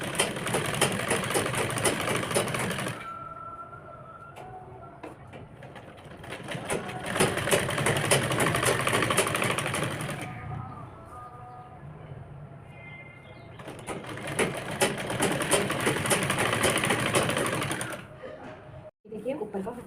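A sewing machine stitches along a fabric edge in three long runs of steady mechanical whirring, with quieter pauses between them in which someone speaks.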